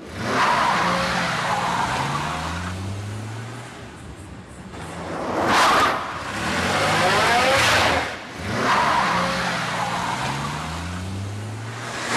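A car turns around on a road with its tyres skidding and squealing, several long screeching passes with the engine revving between them, loud and close.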